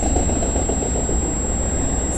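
A CN freight train rolls past a trackside spot on a rail line near London, Ontario, producing a loud continuous low rumble with rhythmic wheel clatter and no voices.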